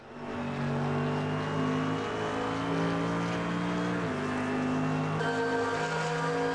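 GT3 race car in Automobilista 2 at Spa on a wet track, engine droning loud and steady with shifting gear pitches throughout, no voices.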